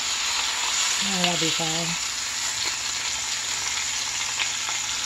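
Cornish hens seasoned with paprika browning in a skillet give off a steady, close sizzle and crackle of frying throughout, while a voice speaks briefly over it partway through.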